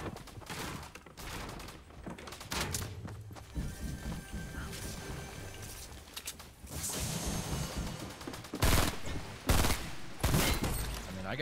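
Rapid SMG gunfire bursts crackle through a video game match, dense overlapping volleys near and far with sharp single shots breaking through, continuing over the whole stretch without talk.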